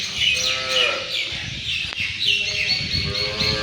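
Bull calves on a large government cattle-breeding and dairy farm at Savar moo loudly and close by, two drawn-out calls over steady barn noise, with birds chirping in the background.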